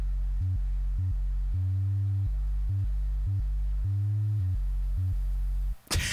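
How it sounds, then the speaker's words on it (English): Sub Destroyer plugin playing a low-octave sine wave, a loud, pure deep tone pulsing in short rhythmic notes that step between two pitches, ending in a brief burst of noise. "So this is essentially an extra special featured sine wave generator, or triangle or square or saw, as you can see."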